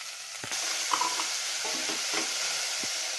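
Onion and cabbage sauté in a pan, a continuous close sizzle with a few soft stirring scrapes and knocks over it.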